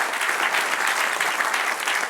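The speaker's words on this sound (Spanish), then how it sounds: "Denle un aplauso al que viene." A church congregation bursts into loud, dense applause, sustained evenly and close for the whole couple of seconds.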